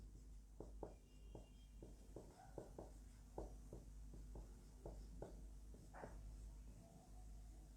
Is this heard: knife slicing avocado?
no